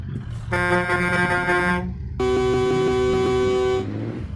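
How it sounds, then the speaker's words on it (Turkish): Air horn on a Scania R700 truck sounds two loud, sustained blasts, a shorter one then a longer one, over a low idling engine rumble, close to the microphone with no speech. "İki tane havalı kornamız var."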